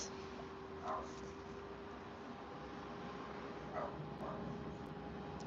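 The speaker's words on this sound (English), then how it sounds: "Can you hear that dog?" A faint, distant dog barks twice, with a short pause between, beneath a steady hiss of background noise; no one speaks.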